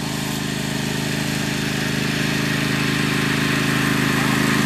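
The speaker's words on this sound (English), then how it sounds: "I hear the mower." Steady engine drone of a lawn mower running with its blade raised, continuous and fairly loud throughout, with a voice faintly present over the motor.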